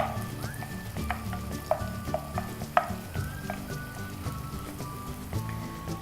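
Moong sprouts stir-frying in a hot pan, a continuous close sizzle broken by repeated scrapes and clinks of a spatula against the metal.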